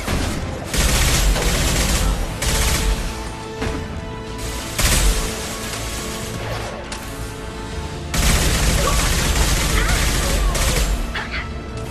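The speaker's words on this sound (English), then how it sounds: "Firing concussive shot." A concussive shot fires in Mass Effect 2 amid heavy, continuous gunfire and repeated booming impacts, loud and dense throughout, with a voice speaking over the combat.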